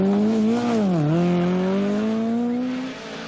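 A 1982 RAC Rally car runs flat out in fifth gear, its engine a loud, steady, close drone that dips briefly in pitch and then climbs again before fading slightly at the end.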